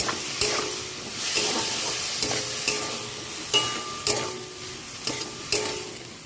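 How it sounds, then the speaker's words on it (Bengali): Okra curry sizzles in a pan while a spatula stirs it, giving a few sharp scraping knocks spaced about a second apart over a continuous frying hiss, close up and without voices. "এবার খুব ভালো করে আমি কষিয়ে নেব।"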